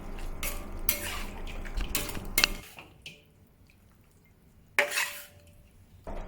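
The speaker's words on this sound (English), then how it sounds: "Final step, return the crispy pork to the wok." Crispy pork is tossed in a wok with sweet and sour sauce, with sharp scraping clatters of a metal spatula against the pan in bursts, then a quiet pause before another scrape.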